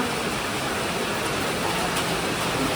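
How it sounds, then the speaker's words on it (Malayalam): Heavy rain falling outside an auditorium on the eve of a wedding, a dense, steady hiss that stays even and fairly loud throughout, with no voices. "പുറത്ത് നല്ല മഴയുണ്ട്"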